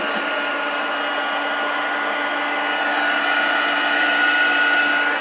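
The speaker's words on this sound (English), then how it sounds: "Now I'm going to bring in my heat tool" A heat embossing tool blows hot air with a steady, high-pitched whine and hiss, growing slightly louder partway through, with no voices.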